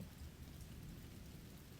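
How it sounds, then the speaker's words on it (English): Steady rain pours down on a woodland cabin in Alabama with a low rumble of thunder rolling underneath, a constant, dense wash of sound with no voices. "We're back at the cabin watching it rain."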